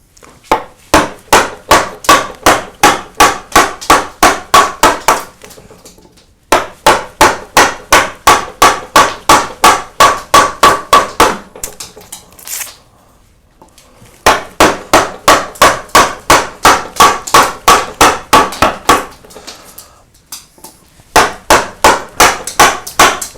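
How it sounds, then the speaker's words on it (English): Large carving gouge driven by a wooden mallet into a block of wood for a green man face: loud, sharp knocks in steady rapid runs of about fifteen to twenty blows, with short pauses between bursts. "I'm going to take wood away here with quite a big gouge."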